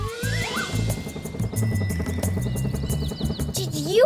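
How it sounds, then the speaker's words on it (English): A toy helicopter whirs with a buzzing, rapidly pulsing rotor noise while a voice talks over it, with short rising electronic tones near the start and end. "helicopter's making so much noise."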